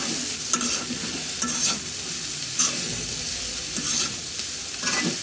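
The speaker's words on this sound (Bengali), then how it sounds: "সামান্য হলুদ ব্যবহার করি, একটু মশলা দিয়ে দিলাম, সব নাড়াচাড়া দিই" Bitter gourd with garlic, turmeric and spices stirred while frying in a pan, a steady sizzle broken by repeated scraping strokes of the spatula at a close, even pace.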